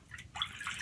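Water dripping off a hand into a shaving soap bowl, a few soft close drips and light trickling with no talk.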